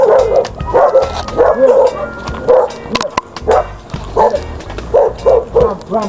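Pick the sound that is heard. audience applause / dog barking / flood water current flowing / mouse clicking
dog barking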